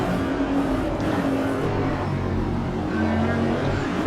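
Race car engine in the Automobilista 2 sim at Road Atlanta, a steady droning roar with slight pitch shifts as the car slows in traffic behind a Camaro, continuous and close with no talk.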